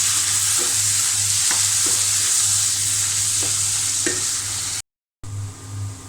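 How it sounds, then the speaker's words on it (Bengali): Papaya hits hot oil with onion and panch phoron in a pan, giving a loud, steady sizzle with a few scraping stirs; frying crackles on after a brief gap. "এখন আমি পেঁপেটা বাগার দিয়ে নেব"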